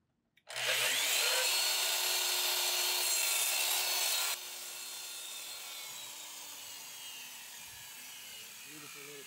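A handsaw rasps rapidly and loudly through a small piece of wood for a cigar box guitar build, the cutting lasting about four seconds before a softer, steady hum remains.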